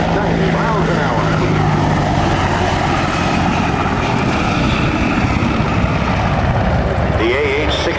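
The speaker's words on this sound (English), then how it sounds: "they'll be coming by in a high-speed pass over the runway" A military aircraft makes a high-speed pass over the runway at a 1997 air show at Quonset Air National Guard Base. A loud, sustained engine roar fills the whole stretch, with faint voices underneath.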